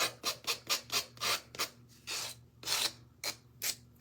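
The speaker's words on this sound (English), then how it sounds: "Just buy this thing. This little sander." A small handheld sander rasps in repeated short bursts, about a dozen strokes of varying length with brief pauses between, close and fairly loud with a faint steady hum underneath.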